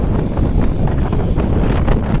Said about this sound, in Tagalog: masama ang panahon, lakas ng hangin